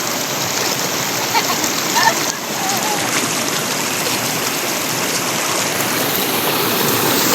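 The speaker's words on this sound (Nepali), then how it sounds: "हाम्रो यो अर्ग्यानिक पानी एकदम मूलबाट आएको" Cold spring water pours steadily from its source while being collected, a continuous rushing, splashing flow filling the whole clip at close range.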